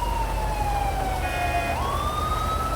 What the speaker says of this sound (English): It sounds like the ambulance is not too far behind me here